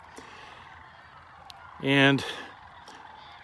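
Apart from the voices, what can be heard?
sandhill cranes calling as they fly overhead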